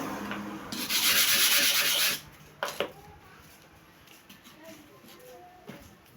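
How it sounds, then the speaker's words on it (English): A hair clipper blade is rubbed against a sharpening surface in one loud, sustained abrasive scrape lasting about a second, followed by a few faint shorter rubs, with no voices. "Sharpening of the clipper blade is technical, logical, with tricks."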